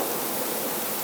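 Steady, dense hiss of synthesizer rain sample, even and continuous with no pauses or changes in level.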